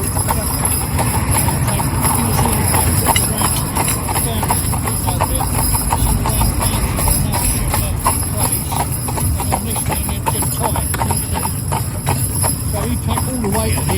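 Wedding cob horses pull a heavy cart through town streets, their hooves clip-clopping in a steady, close, continuous rhythm on the road, with a voice talking intermittently over the hoofbeats.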